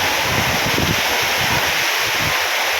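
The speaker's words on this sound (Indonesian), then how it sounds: "Moro-moro udane deres kaya ngene lho" Sudden heavy rain and windstorm during a typhoon in Hong Kong: a steady, dense roar of downpour and gusting wind fills the whole stretch, loud and continuous with no voices.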